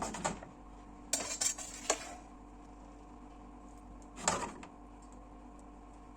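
A metal frying pan with oil rattles and scrapes as it is shaken back and forth while frying, in a few short bursts, with a quiet steady hum between them.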